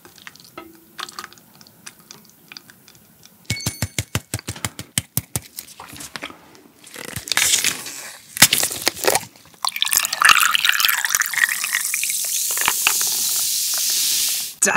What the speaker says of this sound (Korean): 크림 먼저 부어보죠